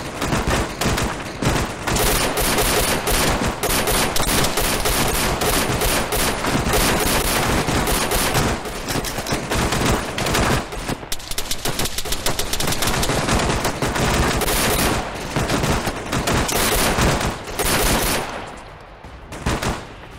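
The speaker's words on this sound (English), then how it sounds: "Just open up with it on the machine guns." Sustained machine gun fire in ArmA 3, dense rapid bursts from several guns layered almost without pause, loud and close, tapering near the end.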